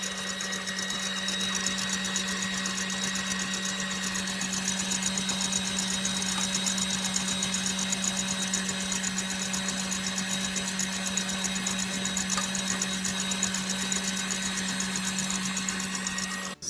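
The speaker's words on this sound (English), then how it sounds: "once you start whipping the eggs and they get foamy, you're just going to add about a tablespoon of sugar" An electric mixer whips egg whites with salt and sugar for a gluten-free Reine de Saba cake, giving a steady, even motor whine with a strong hum that runs unbroken and close for the whole stretch, with no talking.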